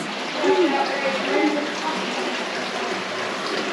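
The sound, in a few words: water in a cavern pool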